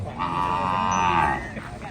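A single cow gives a long, loud moo at a cattle and buffalo market in Na Mueang Noi, Phang Khon, Sakon Nakhon, Thailand, close by and lasting over a second before trailing into market background noise.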